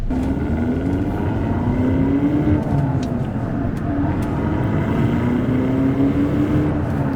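A 2025 Hyundai Elantra N with a turbocharged engine drives steadily, its steady engine drone and rising pitch running throughout with road noise, loud and close, with no talking.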